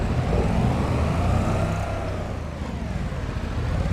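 A Can-Am side-by-side in Farming Simulator 25 drives along with a loud, steady engine drone and road rumble that eases slightly partway through, with no voices.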